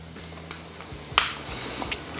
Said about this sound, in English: We're gonna put some onions down.